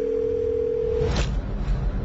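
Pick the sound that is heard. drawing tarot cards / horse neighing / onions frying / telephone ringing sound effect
telephone ringing sound effect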